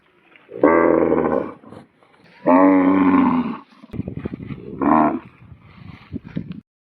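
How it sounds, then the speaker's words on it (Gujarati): A cow lowing over and over since afternoon gives two long, loud, drawn-out moos and then a shorter one, close by, with some rustling and knocking between calls. "આ ગાય બપોરથી એક જ ધારી રાડ્યું દેશે."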